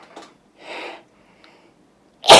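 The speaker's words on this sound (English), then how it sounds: "I'm going to sneeze." A person sneezes once, a sharp loud burst close by at the very end, preceded by a couple of quieter sniffs and breaths.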